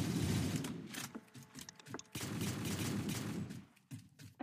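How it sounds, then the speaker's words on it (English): Rocket launchers firing in a Halo minigame built in Minecraft, bursts of booming blasts and crackling explosions in quick succession, fairly faint with brief gaps between volleys. "The rocket launchers are awesome."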